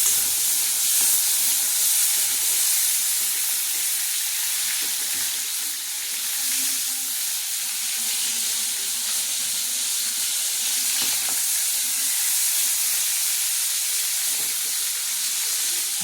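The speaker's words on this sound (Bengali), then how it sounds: "চিংড়ি মাছটা কড়া করে ভাজবো না, ভাজা হয়ে গেছে চিংড়ি মাছটা।" Shrimp fry in a pan with a loud, continuous hiss and sizzle of hot oil, an unbroken bright crackle lasting the whole stretch, close by with no talk.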